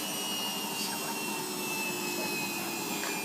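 An old Whirlpool 1400 6kg Antibacterial washing machine whirs with a steady, loud mechanical drone and high whine throughout, running evenly without pauses.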